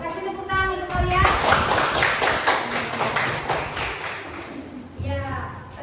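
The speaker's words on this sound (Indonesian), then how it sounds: "Kasih tepuk tangan untuk kalian." Schoolchildren in a classroom clap their hands in a dense burst lasting several seconds, with a teacher's voice speaking before and after the clapping.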